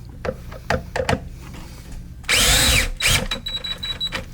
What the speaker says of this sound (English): now you want to tighten these 4 screws up